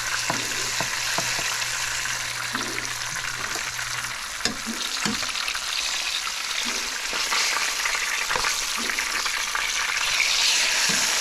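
Steady, dense sizzling of porgy fish frying in hot oil, with occasional pops and crackles throughout.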